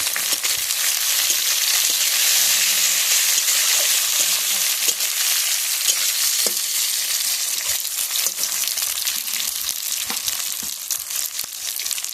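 Tomato pieces frying in a pan with potato and eggplant, giving a loud, steady sizzle that runs throughout, with occasional light stirring clicks and no talk over it.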